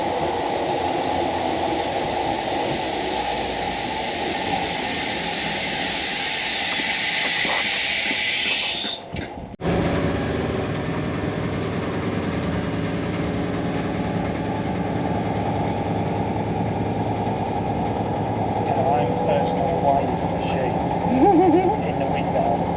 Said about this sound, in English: We're catching a train to Portsmouth Harbour.